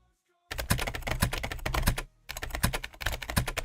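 Rapid, loud clacking of a computer keyboard being typed on, a dense run of keystrokes that stops briefly partway through and then resumes, with no voices.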